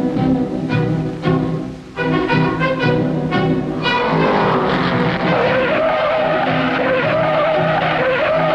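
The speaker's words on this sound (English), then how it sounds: "Scroggins spins out at number 73." A race car at the 1963 Indianapolis 500 spins out, engines roaring loudly alongside squealing, skidding tires that sweep and slide across the whole stretch.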